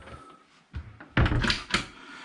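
A drawer slides open and shuts with a couple of soft thunks and a rolling scrape aboard a Princess Y78 yacht, close and fairly quiet with no talking.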